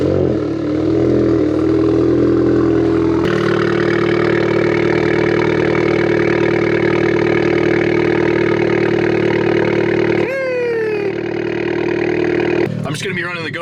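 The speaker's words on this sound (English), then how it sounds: "Cold start." A Volkswagen MK7 GTI with an IS38 turbo cold starts and settles into a loud, steady high idle with a droning hum, then the revs drop near the end before a brief clatter.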